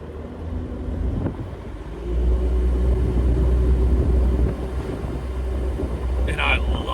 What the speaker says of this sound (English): This is the best this TJ has ever run with a diesel engine with an automatic.